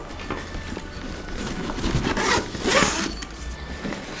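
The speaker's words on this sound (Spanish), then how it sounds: "Buscamos la cremallera que está aquí y la otra que está aquí y la cerramos" A zipper being drawn closed on a bird carrier backpack, a fabric rasp that rises and swells over a few seconds, close and moderately loud with no talk.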